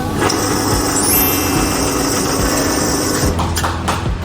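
A soybean grinding mill switched on and running, a loud steady mechanical whir and hum with rhythmic motor pulsing throughout.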